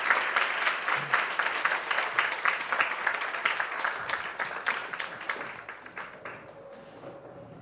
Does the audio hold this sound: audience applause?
yes